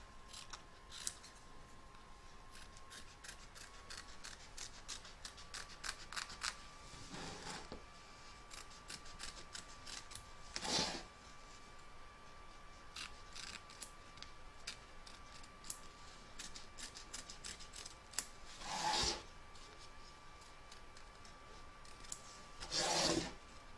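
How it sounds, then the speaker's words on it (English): Scissors trim excess fabric from an embroidery hoop for a large reindeer applique, giving a quick run of crisp, close snips throughout with a few louder rasping cuts spaced apart. "You're now going to trim away all the excess fabric from both back and front of your hoop."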